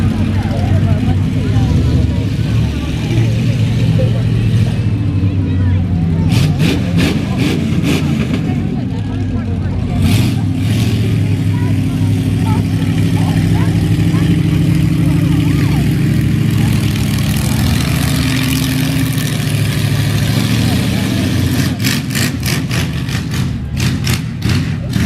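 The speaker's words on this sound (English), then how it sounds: "Big Beat Monster Truck display team." Monster truck engines rumble loud and low at an outdoor show display, idling and revving steadily for about 25 seconds while a voice talks over them, with sharp clattering bursts in between.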